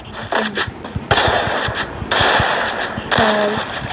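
Rapid bursts of video game gunfire rattle off in quick regular shots, interrupted by short pauses and mechanical clicks.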